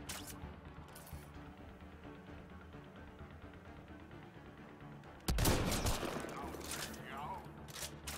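Gunfire in Mass Effect Andromeda: a sudden loud burst of shots and impacts arrives after a stretch of quieter game ambience, followed by further rattling fire, with faint talking in the background.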